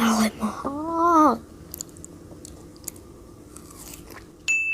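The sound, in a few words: eating big frozen grapes, biting and crunching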